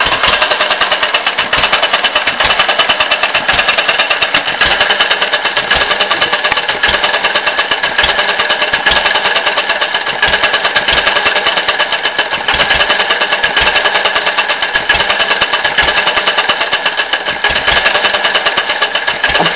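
A rebuilt open crank engine on a vaporizer fuel system and a steady new base runs continuously and loudly, with a dense, rapid mechanical beat and clatter that holds steady throughout.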